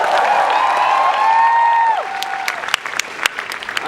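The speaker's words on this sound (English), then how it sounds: "Can we give them a round of applause?" Audience applause at the World Festival of Youth and Students in Sochi, a dense, loud wash of clapping that fills the first two seconds. It then thins into scattered claps and a few sharp individual hits under a brief sustained tone.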